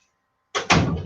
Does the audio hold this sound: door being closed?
yes